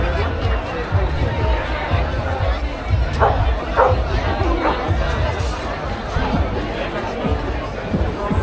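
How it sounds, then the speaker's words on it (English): A dog barks a few times inside a crowded agricultural show tent, its yaps mixed into dense crowd chatter and a nearby talking voice. "Barking dog, quiet."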